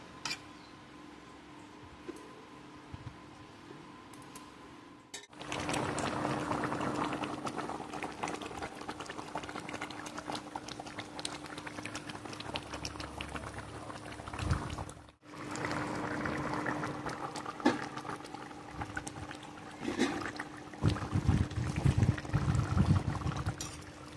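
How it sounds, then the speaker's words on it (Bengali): Chicken biryani simmering in a covered pot with hot water added, a continuous low bubbling hiss that briefly drops out twice, with no talk. "এবার ঢেকে দেবো, 10 মিনিট এভাবে ফুটতে থাকবে।"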